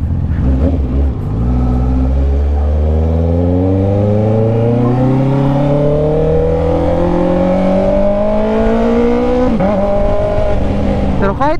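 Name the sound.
motorcycle engine revving while riding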